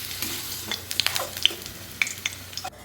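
Potato pieces fry in hot oil with cardamom pods in a pan, a soft steady sizzle broken by scattered sharp pops and spoon scrapes, close and fairly quiet, with no talking.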